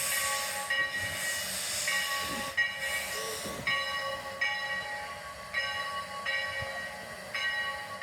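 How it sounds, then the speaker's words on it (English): Steam engine number 3 rolls into the barn at a slow pace, with a steady hiss of steam, rhythmic clanking, and a bell-like ring, heard from close by with no talking. "The movie train, the movie engine, going into the barn."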